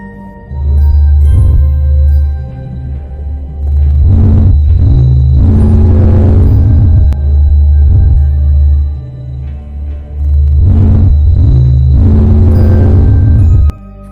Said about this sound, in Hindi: यह रही सूर्य की आवाज।